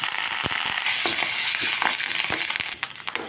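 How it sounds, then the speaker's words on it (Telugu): Curry leaves and dried red chillies crackle and spit loudly in hot tempering oil for a chutney, a dense steady sizzle broken by sharp popping bursts, close and alone. "తాలింపు కొంచెం వేగిన తర్వాత కరివేపాకు వేసుకున్నాం"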